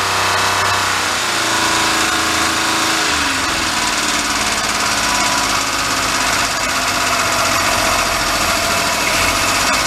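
A clapped-out Daihatsu mini truck with a blown engine runs steadily and loudly, its rough mechanical drone and rattling knock continuous and close throughout, with no talking.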